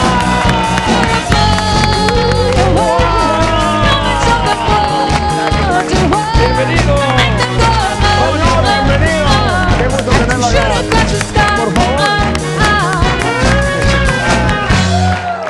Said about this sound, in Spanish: Venga, el aplauso para recibir a Antonio Villarraigosa.